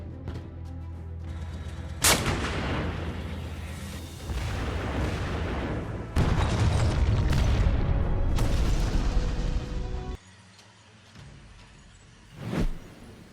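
An artillery system used by German and Dutch forces firing: a series of loud, deep booms with sharp cracks, rumbling blasts layered over a continuous roar, then a quieter stretch and one last distant thump.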